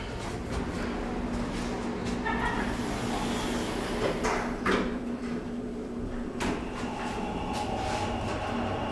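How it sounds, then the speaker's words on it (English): A Schindler 330A hydraulic elevator runs inside a shopping mall with a steady low hum, punctuated by scattered clunks, rattles and a sliding door-like rumble. "this is the elevator in the West Village at Clackamas Town Center in Clackamas, Oregon. It's another Schindler 330A."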